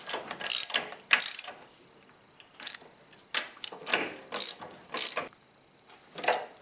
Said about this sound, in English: And now just finish tightening up the bolts.